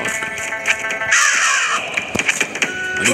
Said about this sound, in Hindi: कौवा कितना यहाँ पे है।